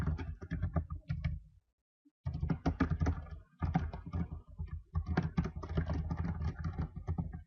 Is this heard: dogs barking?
no